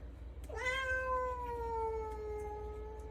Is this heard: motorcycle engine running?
no